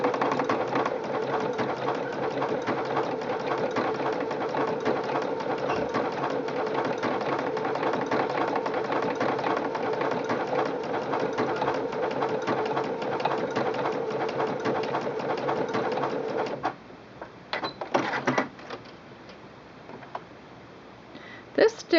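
Singer Quantum Stylist 9960 sewing machine running an overcast stitch with the overcasting foot, a steady loud mechanical whir for about sixteen seconds before stopping, followed by a few soft clicks and handling sounds.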